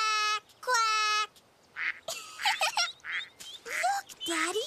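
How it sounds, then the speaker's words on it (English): Cartoon ducks quacking at a pond in a children's animated show, several bright nasal calls in quick succession, fairly close and clear, with no talk over them. "That's the father duck."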